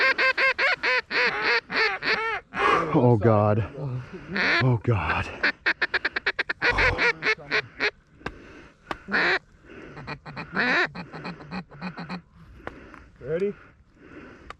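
Ducks and geese calling as they fly in during a Canadian duck and goose hunt, with rapid loud quacks and honks overlapping close by and excited voices talking over the birds.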